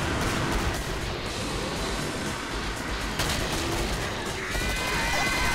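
Repeated grenade explosions and gunfire against Flesh Pound enemies in the video game Killing Floor, a dense continuous barrage of loud blasts and crackling booms.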